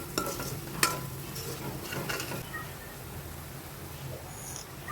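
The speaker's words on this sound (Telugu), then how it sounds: "ఈ కారం కూడా నూనెలో మగ్గాలండి బాగా." Chili powder is stirred as it fries in oil in a pan for khanakantala curry, a soft steady sizzle with a few scraping spoon strokes and knocks near the start, close by and with no talk.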